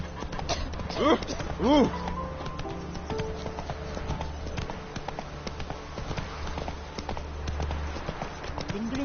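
Horse hooves clip-clop in a steady galloping rhythm in The Witcher 3 video game, running continuously under a rider's spoken words and a brief exclamation.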